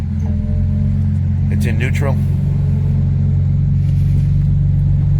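A BMW 335i with a suspected clutch fault sits in neutral, its engine idling with a steady low rumble throughout while someone speaks briefly over it.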